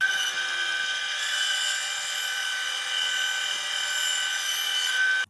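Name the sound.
band saw cutting wood in curves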